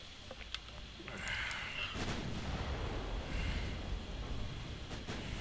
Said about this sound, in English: now you may fire little guns at the destroyers